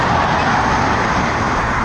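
A car rushes past a cyclist on an open Great Plains road, a broad, loud roar of tires and engine filling the whole moment close by, with no speech over it.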